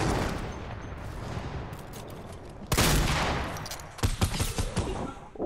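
Gunshots in Fortnite: scattered reports early, then a loud close burst of fire and a run of quick repeated shots toward the end, with no talking over them.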